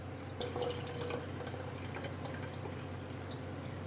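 Water poured into soaked tamarind in a South Indian kitchen while making rasam, a soft, steady splashing and trickle heard close and fairly quiet throughout.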